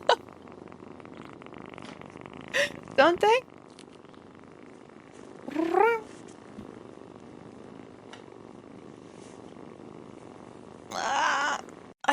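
A gray kitten purring close by in a steady low rumble that runs throughout. Brief bursts of a person talking come in and out over the purr.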